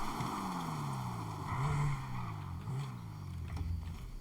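A modified car's engine revs in GTA 5 while drifting, its tone gliding down and up in a few sweeps, with faint tyre and wind noise beneath, moderately quiet throughout.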